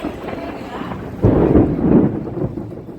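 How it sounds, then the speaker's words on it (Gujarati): A loud, close crack of thunder rumbles out over a rainstorm, swelling suddenly from the steady hiss of rain and then fading back into it. "ભગવાનનું સપ્તાહ જ્યાં જાય ને જ ભાગવું પડે વરસાદ આવ્યો વરસાદ જો"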